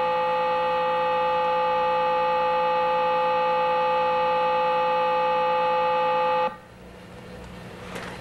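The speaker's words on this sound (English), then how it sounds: "What you heard was 6 seconds of the lowest tone the computer can hum." A steady, unwavering buzzy electronic tone from a Color Computer's sound output at its lowest pitch holds at constant loudness for about six seconds, then cuts off abruptly, leaving faint room noise.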